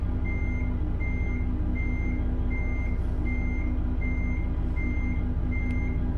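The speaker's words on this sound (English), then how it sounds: "we're gonna batter you guys with some reverse alarm for like 5 minutes" A truck's reversing alarm beeps in American Truck Simulator, a steady series of evenly spaced high beeps, about eight in six seconds, over a constant low engine drone.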